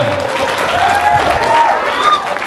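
Applause at a high school anti-drug talk for a student named Bella, a short loud burst of crowd clapping mixed with murmuring voices.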